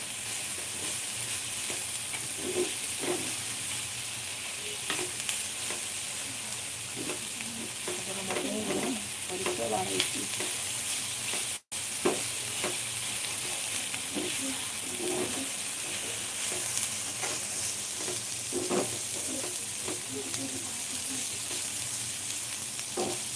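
Onion and tomato frying in a pan for mattar paneer, a continuous moderate sizzle with frequent stirring scrapes throughout, alone without talk.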